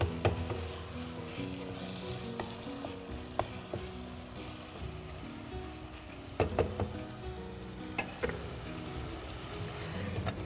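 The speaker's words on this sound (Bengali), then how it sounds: "একটু হালকা নেড়ে দেব" Beef dum biryani being gently stirred in a pot, with a soft continuous sizzle and scattered scrapes and taps of a spoon against the pot, close and fairly quiet, with no talk.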